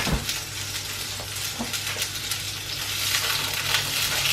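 Parmentier potatoes cook and brown in a pan, giving a steady, close sizzle with a low hum underneath and no talking.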